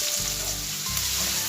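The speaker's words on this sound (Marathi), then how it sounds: "तेल चांगलं गरम झालंय, त्यामध्ये आपण बारीक चिरलेला एक कांदा घालून घेऊया" Finely chopped onion hits hot oil in a kadhai and sizzles loudly and steadily, a dense close frying hiss with low stirring thumps, no voices.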